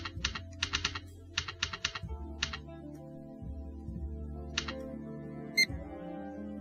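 Computer keyboard keys clatter in quick bursts of several strokes as a name is typed in The Journey Down adventure game, with pauses between clusters over quiet background music.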